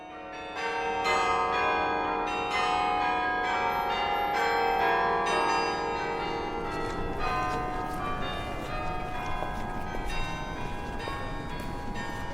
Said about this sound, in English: the iconic 85-foot-tall Carillon Bell Tower